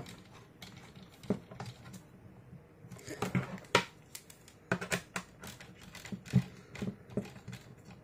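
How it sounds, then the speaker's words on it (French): Antennas being screwed onto an Annkee SC400 surveillance camera, giving faint, irregular plastic clicks and small ratcheting taps at close range. "on va tout simplement visser les antennes à la caméra"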